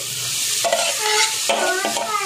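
Frying in hot oil while a spoon stirs and scrapes the pan, a close, steady sizzle broken by several rhythmic scraping strokes, with no one speaking.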